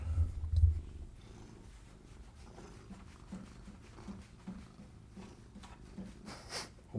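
A pet cat purrs softly and close, a low steady rumble running quietly throughout, with a brief louder bump near the start and faint rustling later.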